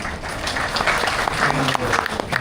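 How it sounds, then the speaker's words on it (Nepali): An audience at a talk in Dubai breaks into steady, dense applause filling the room, with speech partly audible underneath. "ताली बजाउनु बेला रहेछ"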